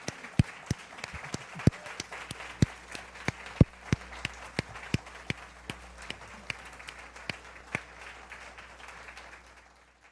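An audience claps at a talk on preserving Dali masterworks, a modest round of separate hand claps that thins out and fades, heard close without a full roar.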